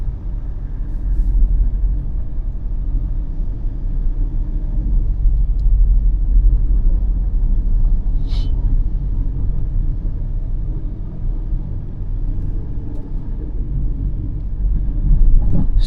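A car engine rumbles in third gear while driving through Chennai city streets, a loud, continuous low drone mixed with road and wind noise, with no talk.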